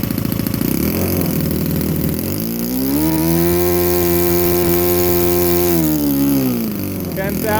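A Saito 82 nitro model engine on ignition screams at high RPM, loud and close, holding a steady buzzing whine that rises and then settles back slightly near the end.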